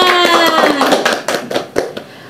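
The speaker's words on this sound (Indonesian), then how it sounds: "tepuk tangan dulu dong semuanya" A group claps hands together in a brief burst of applause, sharp overlapping claps fading out over a couple of seconds, with faint voices mixed in.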